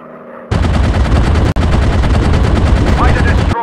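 Rapid machine gun fire from a World War One fighter plane in the mobile game Warplanes WW1 Sky Aces, loud and continuous bursts rattling close, with a brief break between them.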